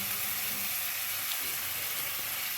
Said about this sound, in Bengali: এই যে এবার আমি যে মশলাটা করে রেখেছিলাম মশলাটা ঢেলে দিলাম